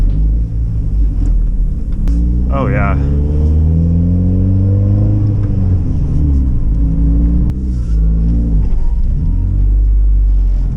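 A car engine rumbles low and steady, its pitch rising and falling as it revs, while a person speaks briefly over it.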